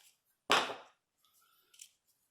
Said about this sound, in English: Some scissors